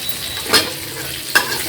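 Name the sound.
onion pieces frying in tempered oil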